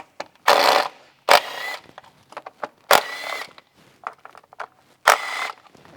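Ratchet work loosening small 10mm bolts on the coil packs of a Suzuki Jimny engine, several brisk clicking bursts with metallic taps and rattles between, close and fairly loud with no talking.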